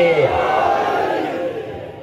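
Gathering at a Shia majlis shouting the slogan Haidari in unison, a loud, full-throated collective cry that rises at once and then fades away over about two seconds.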